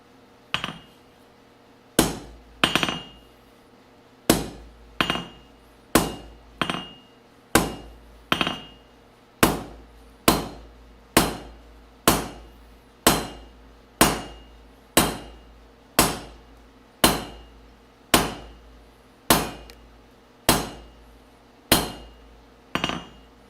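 A hammer repeatedly strikes a small piece of metal being forged into a bit, about twenty loud, sharp ringing blows at a steady rhythm, each with a brief metallic decay, heard close with no talking.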